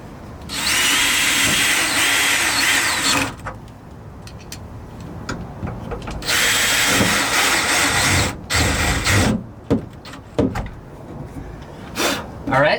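Power tool driving bolts on a direct-attachment truck bed mount, two sustained loud whirring bursts with shorter clattering tool and metal knocks in between, while a person talks.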